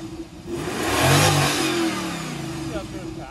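A supercharged engine revs on a cold start. The close, loud rev swells to a peak partway through and then eases back toward a rough idle.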